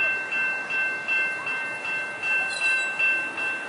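An Amtrak Surfliner passenger train approaching northbound through Del Mar, a steady rumble with rhythmic periodic pulses and a sustained high tonal whine, growing in the distance with no voices.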